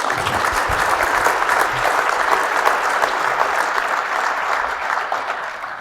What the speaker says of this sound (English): Let's go ahead and give our crew another round of applause here.